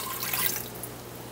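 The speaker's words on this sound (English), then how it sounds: "you're going to need to add 1 cup of water to the pot" Water trickles and splashes as it is poured into an Instant Pot for steaming cauliflower, a steady close wash of liquid noise lasting about a second and a half.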